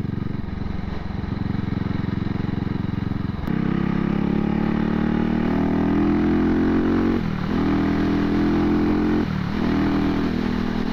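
A CCM Spitfire MK1 motorcycle engine runs steadily up close, its throttle opening at about three seconds into a louder, rougher drone, with brief dips near seven and nine seconds like gear changes, and no talk.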